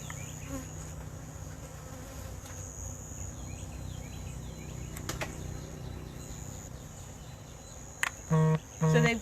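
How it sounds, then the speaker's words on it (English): Honey bees packed inside a hive hum in a steady, dense buzz close to the microphone, with a few louder bursts near the end as individual bees pass by. "So they've got a lot of bees."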